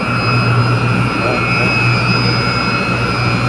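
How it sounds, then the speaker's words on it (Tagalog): A chiller compressor runs in a plant room, giving a loud, steady mechanical drone with a constant high whine, unbroken throughout. "Doon sa taas compressor."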